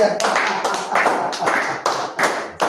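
Finger snapping at a Cameroonian church service, a quick run of sharp snaps in an irregular rhythm with a few louder cracks, close and fairly loud, with no talk over it.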